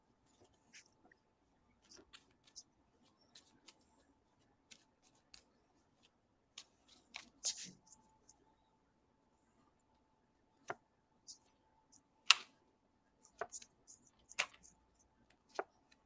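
Tarot cards shuffled by hand at close range, a sparse series of sharp, quiet clicks and flicks scattered irregularly over a mostly silent background, with brief busier bursts in between.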